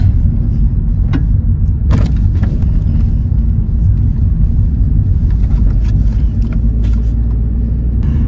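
A car on the road by a canal bridge, heard from a narrowboat, gives a steady, loud low rumble with a few faint clicks and knocks over it, and no voices.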